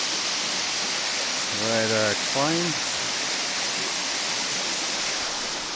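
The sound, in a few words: big waterfall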